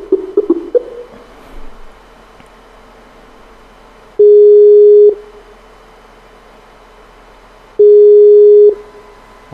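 Busy-signal tones sound after a phone caller on a live call-in radio line drops off: two loud, steady beeps about three and a half seconds apart, with quieter line noise and faint earlier clicks between them.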